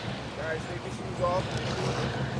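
A boat on the Caribbean Sea off Antigua and Barbuda, heard as a steady broadband rush of wind and water that fills the whole clip, with faint voices in the background.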